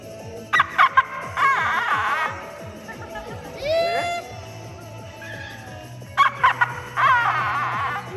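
A person imitates a chicken, with several bursts of clucking followed by a rising crow-like call, then more clucking; each phrase is brief, loud, and separated by pauses.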